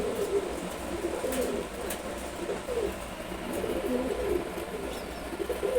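Silver Gorra pigeons with their young coo repeatedly at close range, soft rolling calls rising over a steady low background hum.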